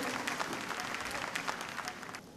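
A hall audience at a police awards ceremony in Bhopal claps loudly and steadily for a jury member, a dense wash of many hands that holds for the whole stretch and thins slightly at the end.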